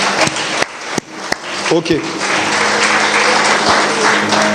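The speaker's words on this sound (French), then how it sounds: "Et on acclame la parole de Dieu" A church congregation bursts into applause after a scripture reading, a dense, loud wash of clapping that builds and holds for several seconds. A brief voice is heard at the start.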